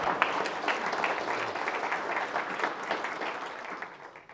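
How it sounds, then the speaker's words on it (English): A county audience applauds retiring Tom Harris at the annual State of the County gathering: a dense, even patter of many hands clapping that holds steady for several seconds at moderate distance. "Can we give Tom a round of applause?"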